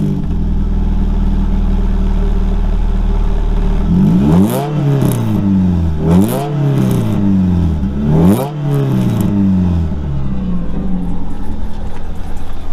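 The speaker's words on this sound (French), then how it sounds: "Il va démarrer la voiture." A Renault Clio 2 RS engine settles to a steady low idle, then revs sharply three times with rising and falling sweeps of pitch, close and loud, with no talk.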